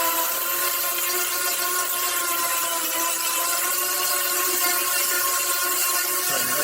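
A sanding block is worked over a rusty steel car panel from a 1969 Camaro. It makes a continuous, bright, gritty scraping hiss that holds steady at close range with no talk over it.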